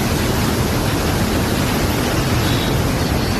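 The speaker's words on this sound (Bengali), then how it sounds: "কতটা পরিমাণে জল যাচ্ছে দুর্গাপুর ব্যারেজে" Water roars through Durgapur Barrage, a dense, loud, unbroken rushing wash with no variation and no voices.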